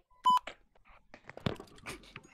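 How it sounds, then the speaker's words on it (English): A censor beep sound effect looked up to bleep swearing during a Roblox Murder Mystery game, one short loud tone near the start, followed by faint scattered talk and noises. "I literally looked up swear beep"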